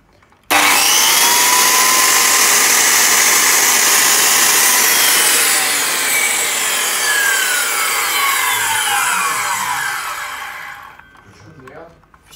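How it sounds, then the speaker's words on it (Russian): A Makita 5008NG circular saw starts abruptly and whines loudly as it bites through wood for about ten seconds, its pitch sagging under load before it winds down. "Видеообзор на дисковую пилу Makita"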